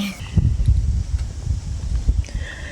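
Wind blowing outdoors, buffeting the microphone with low rumbling gusts that rise and fall over a couple of seconds, with no voices.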